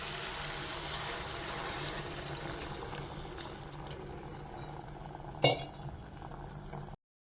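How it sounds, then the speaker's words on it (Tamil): Water pours steadily into a pressure cooker pot of masala chicken gravy with a soft rushing hiss, broken by one sharp metallic clink near the end. "தண்ணி ஊற்றிக்கலாம் ஒரு ரெண்டு கிளாஸ் தான் ஊற்றிக்கோங்க"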